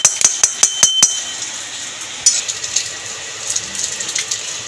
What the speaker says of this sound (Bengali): শিলনোড়াতে বেটে নেব গোটা মশলাটাকে